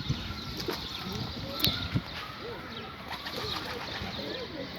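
Soft pigeon coos murmur in the background while people talk nearby, with a brief flutter of wings and a few faint knocks.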